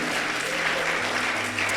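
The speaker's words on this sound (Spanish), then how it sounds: "yo quiero que tú le des una fuerte ofrenda de palmas a ese Dios" A church congregation gives a strong round of applause to God, continuous close clapping filling the sanctuary.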